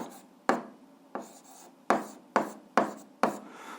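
Pen or chalk writing out an algebra fraction during an 8th-grade math exercise: six sharp tapping strokes, each followed by a short scratchy drag, close and fairly quiet with no talk.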